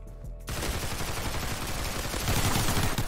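Rapid bursts of gunfire in Roblox Criminality, loud and dense after a brief quiet start, continuing steadily with no talk.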